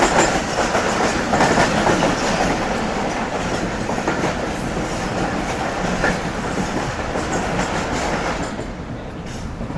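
Karakoram Express train running fast on tracks, a steady loud rumble with rhythmic clickety-clack from the wheels and faint squeal, fading slightly toward the end.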